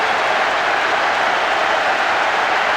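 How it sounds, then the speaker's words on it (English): Stadium crowd in the PES 6 football game reacting after a goal in a Juventus versus Milan match, a continuous broadband roar of many voices and noise held at a steady, loud level with no speech over it. "most of the crowd not happy about that goal"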